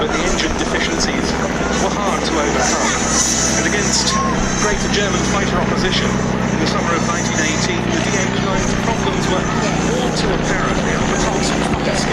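A replica First World War aircraft, escorted by a replica Royal Aircraft Factory type, flies at a Battle of Britain airshow at Duxford, its steady engine drone continuous and fairly loud, with a commentator's voice running over it throughout.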